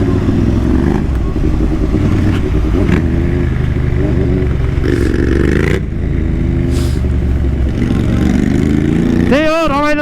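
A Ducati Monster motorcycle with its 796 L-Twin engine runs loud and close, a deep continuous rumble with rising revs that swell and settle, steady throughout with one sharp throttle blip near the end.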